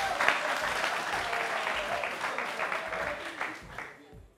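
A studio audience on a television game show applauds John Cena, a dense, lively round of clapping that holds steady and then tapers off toward the end.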